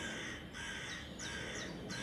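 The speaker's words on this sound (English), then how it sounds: "crows that still lived about the mountain were wheeling and crying unceasingly above" Crows around a mountain cawing over and over, harsh repeated calls at an uneven pace, set against a constant airy background.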